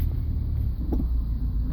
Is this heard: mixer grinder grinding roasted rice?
no